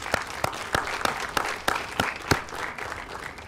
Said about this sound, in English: I'd like to get a round of applause for all the TBAC physicians and staff